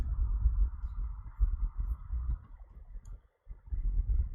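Typing on a computer keyboard, a close run of soft, quick clicks in an irregular rhythm, pausing briefly near the end before resuming.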